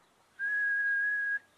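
A person whistles a single steady note for about a second, clear and close, with near silence before and after.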